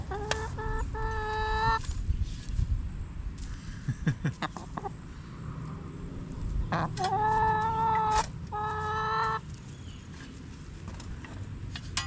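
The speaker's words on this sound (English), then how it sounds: "My chickens just can't resist the camera" Backyard chickens cluck and call near the microphone in repeated bursts, with scattered rustling and digging noises in between.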